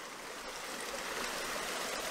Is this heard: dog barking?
no